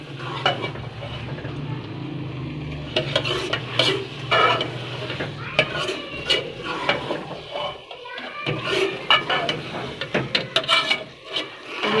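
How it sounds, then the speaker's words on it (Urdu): Cauliflower and meat being stirred and fried over high heat for a Pakistani gobi gosht curry: a spoon scrapes and clatters steadily against the pot under a continuous close sizzle, with no talking. "تیز آنچ پہ اس کو فرائی کریں،"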